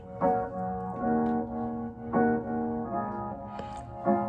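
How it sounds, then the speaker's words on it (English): Piano chords ring out in a slow, sustained pattern, each struck chord blooming and fading before the next, clear and up close with no talking. "It's a contrasting piano"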